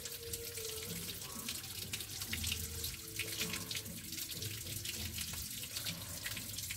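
Water running through a Toyota Kijang car radiator during a simple flush and cleaning, a steady continuous flowing and splashing wash at moderate level with no pauses.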